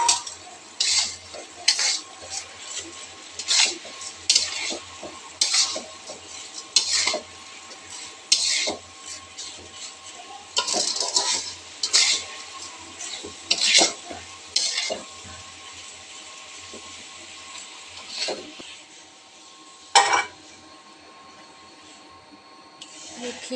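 A spoon scrapes and clinks around a pot as vermicelli is stirred into hot sugar syrup, with irregular bursts of stirring against a soft steady sizzle and a quieter stretch toward the end.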